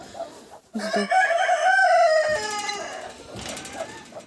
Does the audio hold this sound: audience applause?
no